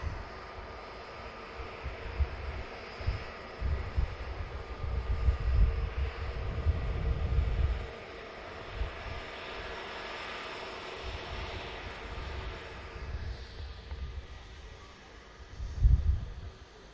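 An ATR turboprop airliner lands at Manchester Airport, its engine roar rising to a loud, rumbling peak mid-way before fading into a steady distant drone, with a brief low thump near the end.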